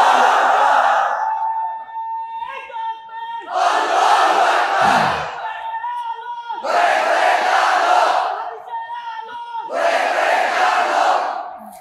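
A large crowd at an Islamic religious gathering roars in loud unison, chanting Allahu Akbar four times in long bursts separated by short quiet gaps.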